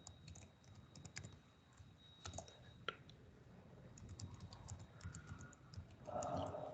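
Password keystrokes on a computer keyboard during a Matlab software installation: a loose, irregular run of light clicks at close range over a low room hum, with a slightly busier burst of taps near the end.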